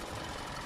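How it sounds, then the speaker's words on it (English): Idling engine of a 2016-2020 Hyundai Tucson running smoothly, a steady close mechanical hum with no talk. "the engine sounds very smooth and normal"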